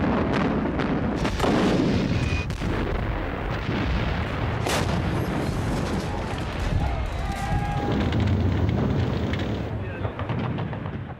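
A WWII battle in Normandy with tanks and machine guns: dense, continuous gunfire and heavy artillery booms fill the whole stretch, with a voice talking over the combat noise.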